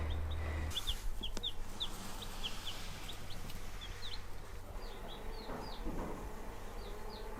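Young chickens huddled in a brooder on a farm give many short, high peeps scattered through the whole stretch over a steady low background hum.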